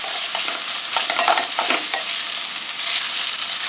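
Chicken pieces sauté and sizzle in a hot pan for Hakka-style chicken noodles, with steady close frying hiss and a run of scraping stirs from a spatula, no voices over it.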